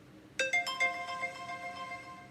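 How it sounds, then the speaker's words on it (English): A text message alert tone on a phone, a short burst of three or four bright chiming notes that ring out and decay slowly, heard alone with nothing else around it. "Now remember, that's a text message"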